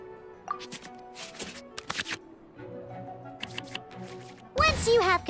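Cards shuffled back into the draw pile in the Genshin Impact card game: a series of crisp digital card-flick and shuffle sounds over light game music, ending in a brighter sparkling flourish.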